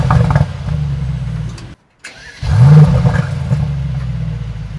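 The V8 engine of a 2021 Mercedes-AMG E63 S sedan rumbles at a steady idle, drops out briefly, then returns with a sharp rev and a deep, loud burble held under load.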